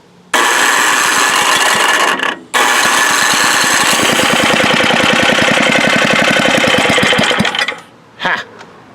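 An Ariens snowblower engine catches after a pull-cord start and runs with a loud, rapid mechanical chatter for about seven seconds. It briefly drops out near the start, picks up again, then cuts off with a short sputter at the end.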